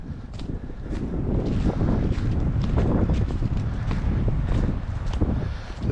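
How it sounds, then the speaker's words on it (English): Cold morning wind buffets the microphone beside a rail line near the Dog River Bridge, a steady loud low rumble with gusty surges, continuous throughout. "It's a very cold wind this morning."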